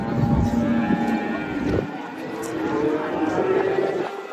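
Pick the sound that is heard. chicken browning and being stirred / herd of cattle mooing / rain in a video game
herd of cattle mooing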